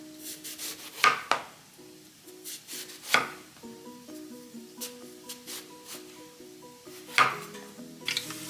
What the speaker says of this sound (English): you want to slice it like this